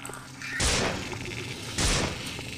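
An assault rifle in System Shock 2 fires two short bursts about a second apart, each a loud, sharp blast that trails off, over a low steady background hum.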